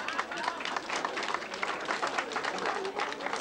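Crowd applause from guests at an outdoor restaurant opening, a dense continuous patter of many hands clapping with some voices mixed in.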